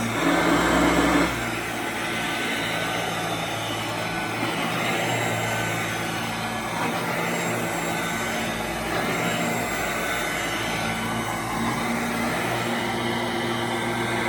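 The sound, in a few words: 1991 Royal Model 882T vacuum cleaner running loud, lifted up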